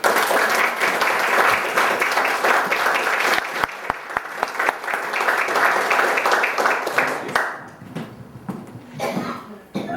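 An audience at a community history talk applauds to welcome a speaker, sustained dense clapping from many hands that fills the room, then tapers off near the end with a few scattered claps and murmurs.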